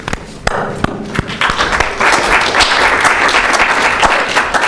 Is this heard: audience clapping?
yes